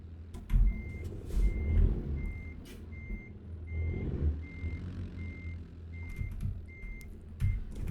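Truck reversing beeps from American Truck Simulator, a steady evenly spaced series of short electronic tones sounding over a low rumbling engine with occasional louder thumps and air hisses.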